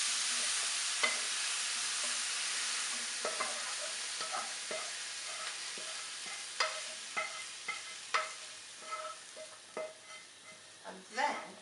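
Leeks fry in a pan with a steady sizzle while a utensil stirs them, giving repeated close scraping clacks that grow louder and sharper toward the end.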